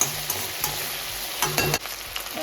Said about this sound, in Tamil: பாயில் ஆனோடனே இந்த ஆயிலில் போட்டு நல்லா ஃப்ரை விடுறோம்.